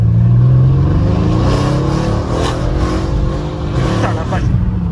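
A Brabus 650 car accelerates hard with its wheels failing to grip the road, giving a loud, sustained engine roar that rises in pitch, with voices talking over it.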